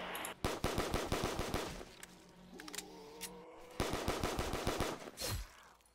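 Gunfire in Call of Duty Black Ops 3 Zombies, rapid automatic bursts of loud close shots in two long strings with a quieter gap of game noise between them.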